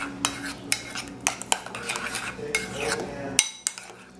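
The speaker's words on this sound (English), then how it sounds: "Then give it a great stir." A utensil stirs a coconut yogurt mixture in a bowl, giving close clinks and scrapes in an irregular rhythm, with a few sharper knocks against the container and no voices.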